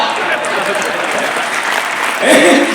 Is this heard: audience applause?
yes